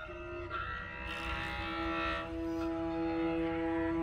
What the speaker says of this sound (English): and then realize what you're hearing is ice.